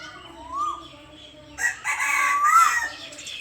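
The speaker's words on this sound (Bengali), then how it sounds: "মোরগ ডাকছে" A rooster crows outdoors near a tree, its long rising-and-falling call ringing out twice at moderate distance, the second crow louder and fuller, over quiet background birdsong.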